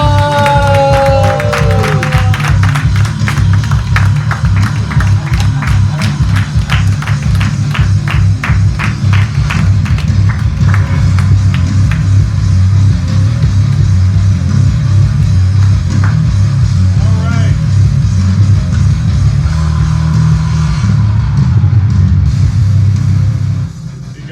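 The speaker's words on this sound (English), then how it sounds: "Put your hands together for the man, Joe Becerra!" A live audience in Culver City claps and cheers for Joe Becerra, a loud, sustained wall of applause and whoops that carries on at full strength before cutting off abruptly at the end.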